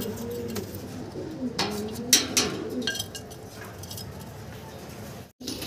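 Pigeons kept for sale coo in low repeated murmurs nearby, mixed with sharper wing flaps and chirps, while someone talks over them.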